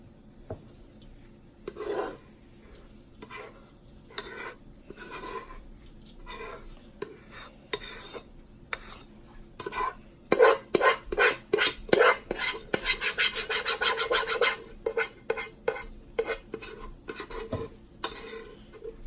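Quinoa poured into a hot pot and stirred with a utensil, with scattered scraping taps at first that build into a dense run of rapid, loud rasping strokes and clinks against the metal, then taper off.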